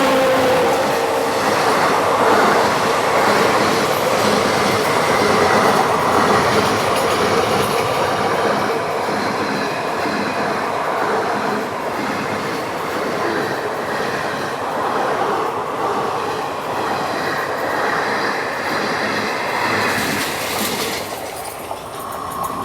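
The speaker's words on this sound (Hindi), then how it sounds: "crossing Sainagar Shirdi Machilipatnam weekly express" The Sainagar Shirdi Machilipatnam Weekly Express passes close by at night on an Indian rail line, a continuous loud roar of wagons with rhythmic wheel clatter and some squeal that holds steady throughout.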